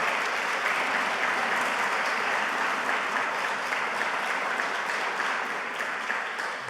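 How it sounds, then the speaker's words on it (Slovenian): An audience at a conference opening in Ljubljana applauding guests, a steady, full burst of clapping lasting several seconds and fading slightly at the end, with no talk over it. "Mislim, da si to zasluži en aplavz."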